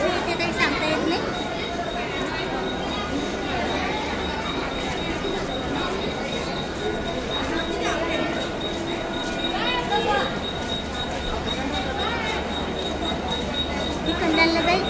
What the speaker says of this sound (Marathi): तर बघा आम्ही लोकलमध्ये बसलेला आहे